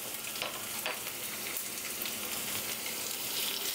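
Garlic and panch phoron fry in hot oil in a pan, giving a steady, close, loud sizzle with faint crackle and the scrape of a stirring spoon, no voices.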